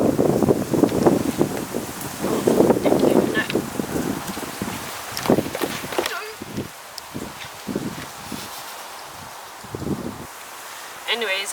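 Outdoor wind buffeting a microphone, with rumbling gusts heavy at first and easing off into scattered bursts, while someone talks through it.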